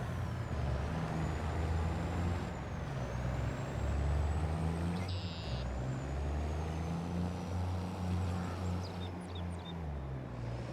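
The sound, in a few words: truck driving off with air brakes in Farming Simulator video game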